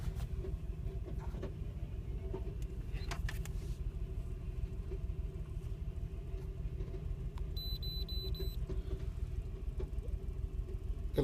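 A misfiring car engine idles with a low, steady rumble and a faint repeated knock running underneath, heard close and at moderate level with no talking.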